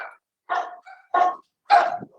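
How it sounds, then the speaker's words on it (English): A dog barks at a delivery person at the front door, three sharp, loud barks spaced about half a second apart with a softer yip between them, close by. "my dog's got a delivery person at the front door."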